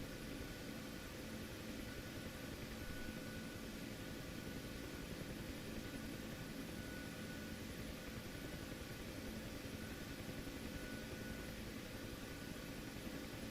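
Steady, dense rotor and turbine drone of a Huey helicopter hovering in a flight simulator game, continuous and even throughout with no talking.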